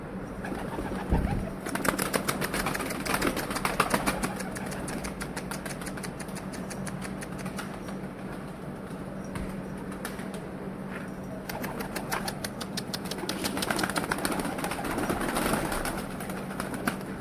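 Pigeons outdoors, with repeated flurries of flapping wings and soft cooing over a steady background hum, mid-distance and moderately loud, no speech.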